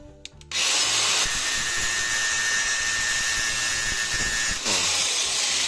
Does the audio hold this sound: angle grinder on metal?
yes